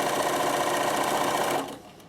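A sewing machine stitches ribbon with invisible thread on top and ordinary thread in the bobbin, running steadily and close for about a second and a half before slowing to a stop.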